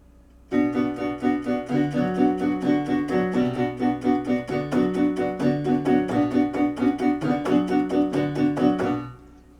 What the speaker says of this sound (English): you're also going to hear a little bit of piano